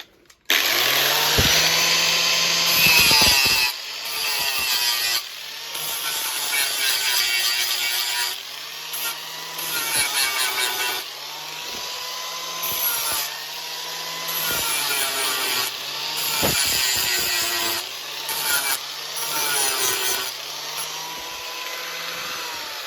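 Cleanup of fresh welds on a Mk5 Ford Fiesta's spare wheel carrier, a power tool, likely a grinder, whining loud and close in steady bursts with brief pauses and pitch dips as it bites the metal, no talk.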